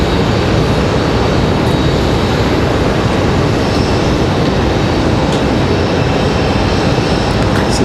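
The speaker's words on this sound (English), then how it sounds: "So the 777 will make her turn here" A Boeing 777 airliner taxiing at Raleigh-Durham International Airport, its engines producing a loud, steady broadband roar that holds constant throughout with no voices.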